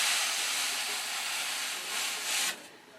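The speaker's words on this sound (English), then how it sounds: "I'll take the long sanding block and just kind of whisk off any of the imperfections" A long sanding block is rubbed along a sheet of 1/8-inch model wood for a Classic Continental fuselage, a steady close hissing rasp that ends abruptly near the end.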